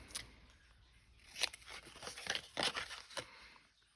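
Scissors cutting while crafting tags: a quiet run of snipping and crisp paper rustles, rising into several clustered slicing cuts toward the middle and end, with no speech.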